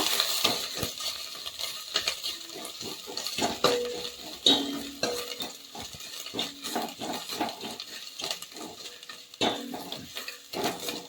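Garlic and ginger are stirred in a pan for a bitter gourd egg curry, with irregular scraping and clinking of a metal spoon against the pan and a faint sizzle underneath, close and fairly quiet.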